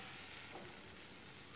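A chutney mixture with tamarind sautés in a pan, giving a soft, steady sizzle and crackle throughout with no talk.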